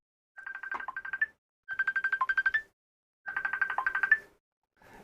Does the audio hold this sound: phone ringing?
yes